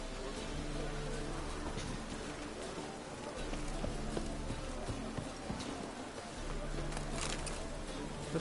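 Horse hooves clip-clopping in the video game The Witcher 3, a rhythmic trot under ambient game sound with some voices talking over it.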